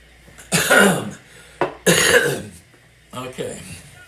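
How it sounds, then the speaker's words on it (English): A man clears his throat three times in close succession, loud and near, each a harsh rasping burst with short pauses between. "I got to get some water or something and try to clear my throat a little bit."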